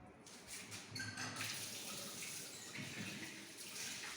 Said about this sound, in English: Again we have to wash conical flask.